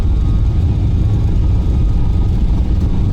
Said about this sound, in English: Hear that rattling, hear the nose gear.